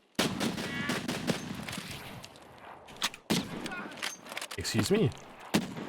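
Gunfire in Escape from Tarkov (SPT) comes as a cluster of sharp bursts with several loud shots near the start and more scattered reports later, mixed with voices talking over the action.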